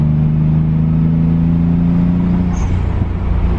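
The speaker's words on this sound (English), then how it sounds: "the HKS exhaust is the way to go" A Nissan 300ZX with an HKS exhaust idles and revs low with a steady exhaust rumble, close by, with no talking.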